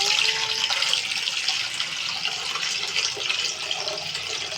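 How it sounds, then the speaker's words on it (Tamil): Tap water pours steadily into a pot for pasta, a continuous close hiss and splash that runs unbroken for several seconds. "தண்ணி ஊற்றலாம்."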